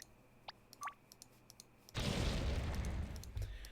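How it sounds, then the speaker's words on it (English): Enemy ship cannons in the Star Box RPG space video game fire a loud booming blast that rumbles on after a few quiet electronic beeps and clicks. "They blasted with us with the cannons."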